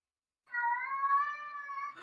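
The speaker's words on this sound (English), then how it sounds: "So he's a loud boy. I love loud cats." A single loud, drawn-out meow from a talkative cat, close and clear, lasting about a second and a half after brief silence.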